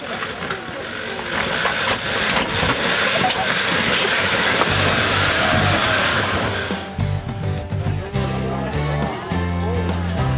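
Nissan GU 4WD crawling and bouncing over rocks, its engine droning and revving unevenly with knocks and scrapes, loud and close, with voices talking over it.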